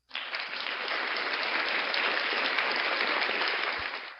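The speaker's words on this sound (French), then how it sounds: "je vais t'envoyer des applaudissements" Steady applause from many hands, fading in quickly and sustained for about four seconds before tapering off, moderately quiet and heard alone without voices.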